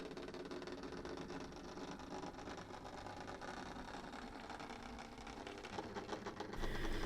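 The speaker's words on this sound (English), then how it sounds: "Class 73 E6001 leaves platform 2 for the head shunt." Class 73 electro-diesel locomotive E6001 pulling away from a platform at a preserved railway, a steady mechanical engine drone with rumbling low end that holds throughout and swells slightly louder near the end.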